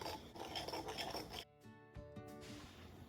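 Whisk scraping and rubbing against a bowl while blending a glaze of fresh orange juice and champagne, a dense rasping texture for the first half, then quieter, sparser strokes with light clinks.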